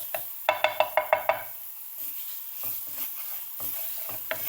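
Leeks frying in oil in a pan with a sharp series of about six quick stir-and-scrape knocks early on, followed by a soft, steady sizzle with occasional light utensil taps, close by and with no talk.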